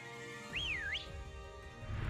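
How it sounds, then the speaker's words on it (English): A single melodic whistle in the Pokemon Crown Tundra video game rises and dips in a smooth swooping phrase lasting about half a second, clear over soft game background sound that grows noisier toward the end. "where all you had to do was fucking whistle?"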